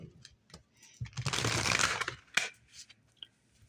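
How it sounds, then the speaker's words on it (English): Tarot cards being shuffled by hand: a dense riffling burst of papery flutter lasting about a second, followed by a sharp snap and a few soft taps and rustles, close and moderately quiet with no talking. "One more shuffle."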